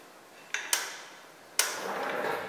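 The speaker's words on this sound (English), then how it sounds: "That was the table moving." A heavy table shifts across a deck, giving a couple of sharp knocks followed by a louder scraping thud that trails off into a sustained rumble, all close by.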